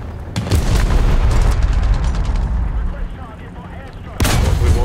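In War Thunder ground realistic battles, a BT-5 light tank's cannon and nearby guns boom, with a heavy blast early on, continuing battle rumble and a second loud shot near the end.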